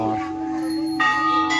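A temple bell offered for granted wishes rings with bright, sustained metallic tones, struck again at about one second and once more shortly after, each strike layering over the lingering ring.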